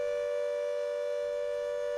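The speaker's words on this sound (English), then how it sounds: "We are hearing sirens over Warsaw." Sirens sound over Warsaw as a steady, sustained tone that holds without break throughout, with no voices present.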